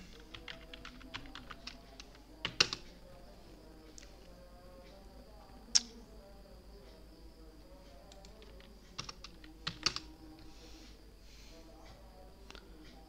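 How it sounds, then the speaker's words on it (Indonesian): Soft typing on a computer keyboard, heard as quiet, uneven runs of key taps with a few sharper clacks scattered through, going on under a person's voice talking in Indonesian. "kita ketik background"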